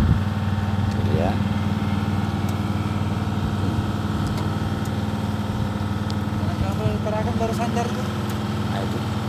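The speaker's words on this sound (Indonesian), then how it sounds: "Kapal baru datang." A steady low boat engine rumble runs throughout as a boat arrives at a harbour pier on Sebatik Island, North Kalimantan, with voices talking faintly underneath.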